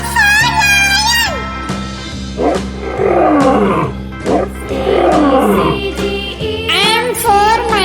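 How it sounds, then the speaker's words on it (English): A lion roars in a children's cartoon, with deep growling roars through the middle, framed by higher warbling calls at the start and end, over steady backing music. "L for lion."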